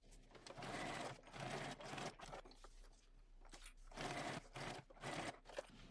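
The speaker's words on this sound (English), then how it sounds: "I stitch across here from notch to notch, making sure you're meeting those seam allowances" A sewing machine stitches a seam across a bag, running in several close bursts of rapid mechanical whirring separated by short pauses.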